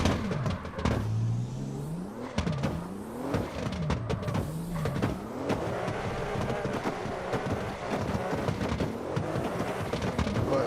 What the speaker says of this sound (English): I'm just testing out the car